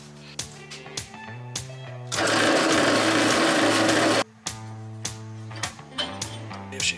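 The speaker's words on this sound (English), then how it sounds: "Okay, got a 1/4 inch drill." A drill with a 1/4 inch bit runs steadily for about two seconds, a loud continuous whir in the middle of a passage dominated by music, with no talking.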